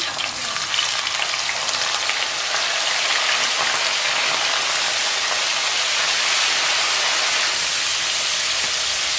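Salted jambal roti fish sizzles in hot oil, a dense, continuous crackling fry heard up close and alone, holding steady throughout.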